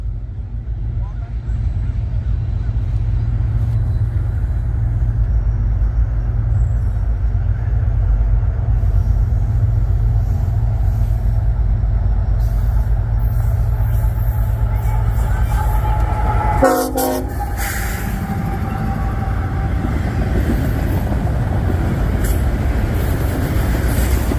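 A freight train with CSX and Wabash heritage locomotives passes at night on a cold line. Loud continuous engine rumble and rolling wagons fill the whole stretch, with a brief horn-like tone partway through.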